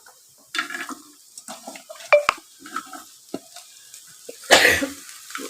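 Pumpkin peel pieces fry in a pan, giving brief bursts of sizzle and stirring scrapes that come in separate clusters over near quiet, with a louder burst near the end.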